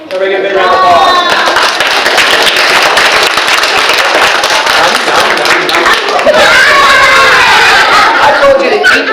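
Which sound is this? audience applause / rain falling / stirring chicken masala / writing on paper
audience applause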